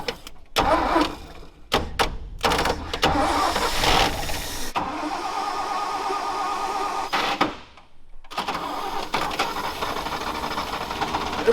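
An old Toyota engine forgotten for 45 years cranks and catches on a fuel-filled filter, sputtering unevenly with bursts and stops before settling into a rough, steady idle close by; no voices intrude.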